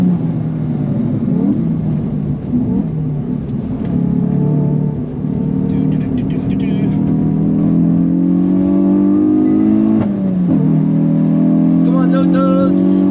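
A Lotus car engine runs hard on the Nürburgring, with a loud steady drone that climbs and dips through gear changes and a drop near the end. Someone talks over the engine from inside the car.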